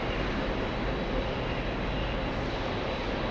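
Steady, loud broadband roar of an airliner taking off at Frankfurt airport, a continuous engine rush that holds without break and with no voices.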